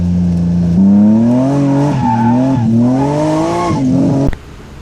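A supercharged 1989 BMW E30 325i with an S50 engine squeals its tires in a long, loud, wavering screech with engine roar, cutting off sharply near the end.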